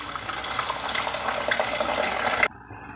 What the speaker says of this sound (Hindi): अब हम इसमें डालेंगे पानी 2 लीटर।